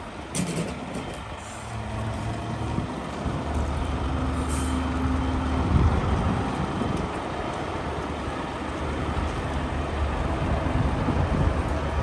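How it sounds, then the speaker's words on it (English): A heavy truck rolls past on a snowy Helsinki city street, its engine a low, continuous rumble close by, with a brief hiss like an air brake amid steady traffic noise. "Just watch out for this truck."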